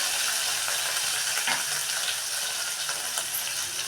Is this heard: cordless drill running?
no